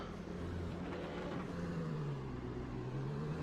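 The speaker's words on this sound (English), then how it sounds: "You hear the hydraulic gearbox" A Dallara P217 LMP2 prototype race car in iRacing hums with a steady engine drone and whirring drivetrain, its pitch gradually shifting as it runs, moderately loud and unbroken.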